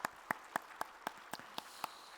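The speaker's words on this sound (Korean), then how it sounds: "하나님께 영광의 박수 올려드립니다." A few people in a church Sunday service clap slowly, eight distinct claps spaced evenly, fairly quiet and sparse rather than a full ovation.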